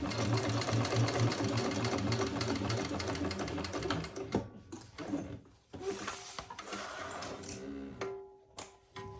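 Sewing machine with a 20 gauge needle stitching leather for a crossbody bag, a continuous loud run that then breaks into short uneven bursts and handling noises.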